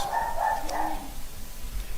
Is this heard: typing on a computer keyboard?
no